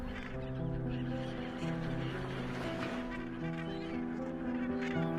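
A dense colony of Cape gannets on a Namibian island calls in a continuous chorus of harsh, honking cries, many birds overlapping at moderate distance.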